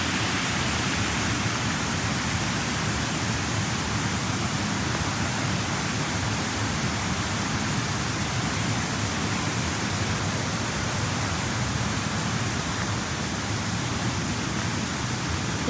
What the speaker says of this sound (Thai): เสียงน้ำนะคะ ทุกคนนี่นะน้ำไหลแรงมากเลยนะคะ